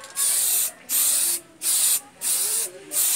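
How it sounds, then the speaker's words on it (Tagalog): Spray can laying down gray primer on a motorcycle body cover, five loud hissing bursts of about half a second each, separated by short pauses, close to the microphone. "napaka easy lang mag-repaint guys gamit ang spray can"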